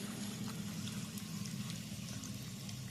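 Mustard oil being poured onto chicken for a curry, a soft, steady liquid stream trickling for a few seconds, quiet and close, with no talking.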